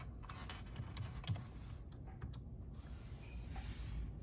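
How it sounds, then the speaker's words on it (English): Typing on a computer keyboard to order lab tests: quiet, irregular clicks and clacks in short runs, near and alone, with no talk over them. "I'm just gonna type in MIC and scroll down."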